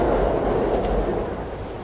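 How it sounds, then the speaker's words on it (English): Trains passing on elevated tracks overhead, heard from below on a hot summer street in Japan as a steady low rumble with a faint metallic wash, continuous and moderately loud. "You can hear the trains above."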